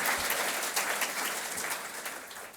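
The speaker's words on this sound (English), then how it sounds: "Let's give them a round of applause for bringing us" A conference audience at a mental health keynote breaks into a loud, dense round of applause that runs steadily throughout, close and full, and fades slightly toward the end.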